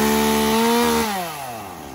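Petrol chainsaw from a batch of household and logging saws, running loud and close with a steady high engine whine that drops in pitch midway as the throttle eases off to idle.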